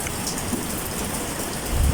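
Rain falls steadily during the rainy season, a close, even patter.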